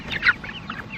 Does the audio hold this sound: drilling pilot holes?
no